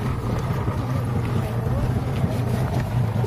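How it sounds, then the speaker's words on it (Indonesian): Boat powered by a 200 hp Yamaha outboard motor, a steady low engine drone with wind buffeting the microphone, continuous and fairly loud throughout. "motor 200 kuda Yamaha guys"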